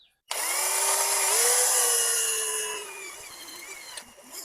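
A power drill whines loudly at high pitch for about three seconds while boring a hole in the mounting area for a Mighty Max battery on a DuraMax XP4400EH generator, then winds down, followed by a few light clicks.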